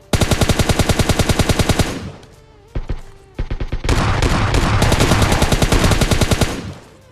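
Loud automatic gunfire in a shooting video game, rapid, evenly spaced shots in long bursts: a two-second string, a few isolated shots, then a longer sustained burst, close and alone.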